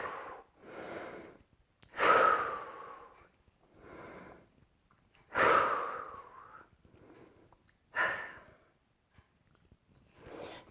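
Slow yoga breathing plays close and quiet, with about five long inhales and exhales spaced a few seconds apart, soft airy breaths swelling and fading with silence between them.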